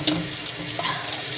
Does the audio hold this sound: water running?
yes